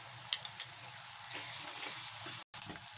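Ginger garlic paste frying with browned onions in a pan, a steady soft sizzle with faint scattered crackles and one brief dropout near the end, no talking.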